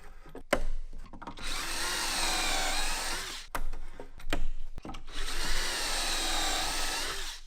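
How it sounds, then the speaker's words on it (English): Two long bursts of a high-pitched power drill boring pocket holes into wood for a tabletop, separated by clicks and handling noises, close and steady. "I actually had to drill the pocket holes for the tabletop first"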